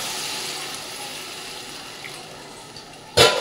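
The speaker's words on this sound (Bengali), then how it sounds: "জল দিয়ে ঢেকে দেবো" Water pours steadily into a cooking pot holding vegetables and a couple of green chillies for a light curry, a continuous close hiss that ends in a brief louder splash.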